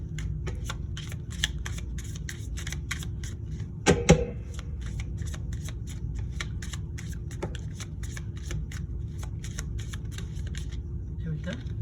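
Tarot cards being shuffled by hand, a fast run of crisp riffling flicks repeating throughout, close up, with a couple of louder knocks midway and quiet speech at times.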